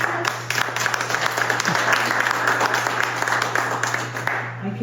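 Applause from a crowd at a state assembly district debate, dense sustained clapping that fills the whole stretch at steady loudness, with a low constant hum underneath.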